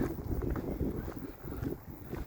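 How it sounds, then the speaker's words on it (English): Strong wind buffets the microphone on a hilltop walk to the Crown, a steady low rumbling roar with gusty surges and nothing else heard. "it is very windy here"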